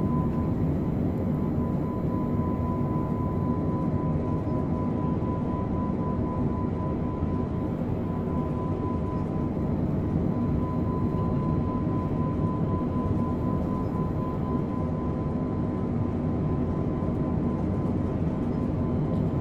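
A simulated aircraft passes in a flight simulator flyby, heard as a steady, broad engine roar that holds at constant loudness throughout, with a faint tone running over it and no talking.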